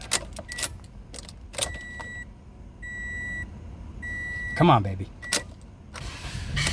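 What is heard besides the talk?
Toyota Corolla engine cranking, failing to start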